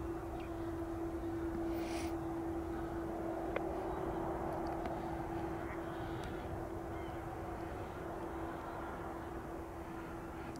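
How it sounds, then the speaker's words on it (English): A KLM Boeing 777 heavy jet from Dubai arriving at Amsterdam, heard as a steady, continuous distant engine roar with a sustained tonal hum throughout, no talking. "Next up, 777 service from KLM from Dubai."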